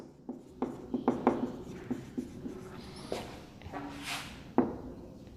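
Chalk or marker writing on a board during a quantum mechanics lecture on black body radiation: a run of short taps and strokes, irregular and close, with quiet pauses between and no talk.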